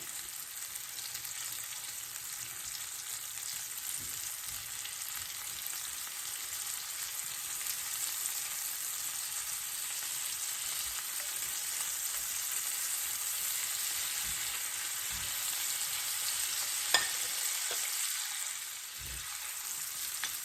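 Thin pieces of food sizzle and fry steadily in a hot pan while cooking Cajun-style shrimp and grits, a continuous close hiss with a few small pops and no talking.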